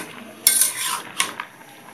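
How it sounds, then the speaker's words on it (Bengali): A metal spatula or spoon scrapes and clinks against a pan while bottle gourd greens and shrimp are stirred in a home kitchen, two sharp metallic strikes with brief scraping between, close and clear, no talking. "একটু নেড়ে মিশাই দিচ্ছি, অল্প একটু হয়ে যাবে শাকগুলা, চিংড়ি মাছ দিয়ে করতেছি"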